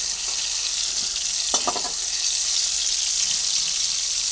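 Okra sizzles in hot oil, a steady close frying hiss with a brief cluster of clattering taps from stirring partway through.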